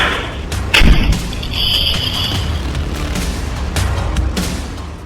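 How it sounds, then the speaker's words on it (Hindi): A petrol bomb bursts during a street attack in Ranchi, a sharp booming blast followed by a dull rumble and scattered thuds, the noise staying loud and rough afterward. "मुंह पर कपड़ा, हाथों में जलती पेट्रोल की बोतल और जोरदार धमाके की आवाज।"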